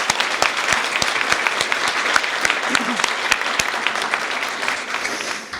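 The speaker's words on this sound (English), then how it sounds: "Please give them a round of applause." Audience at a pet-community awards event claps for staff and volunteers, a dense, steady round of applause of moderate loudness lasting several seconds before tapering off.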